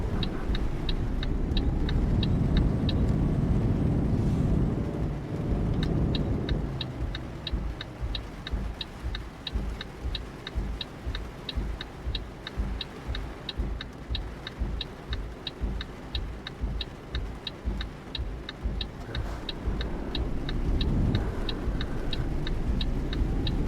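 A truck in Euro Truck Simulator 2 driving through Scotland, a steady low engine drone with a loud rumble early that eases, joined by a regular ticking indicator clicking for much of the run.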